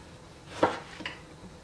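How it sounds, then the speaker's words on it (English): A knife slices fresh tomatoes in half, giving two soft, quiet cuts, the first a little sharper and the second fainter, with near silence around them. "You're gonna take them and cut them on the side in half."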